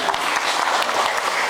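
Applause from an audience at a school motivation session for parents and pupils, a dense, steady wash of clapping that carries loudly through the whole brief moment.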